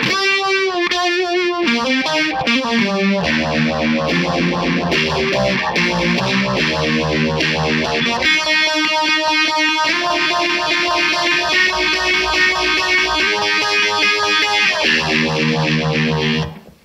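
Electric guitar through a Tortuga Standard Issue phaser pedal, chords sweeping with a swirling, whooshing tone that shifts continuously, loud and unaccompanied throughout.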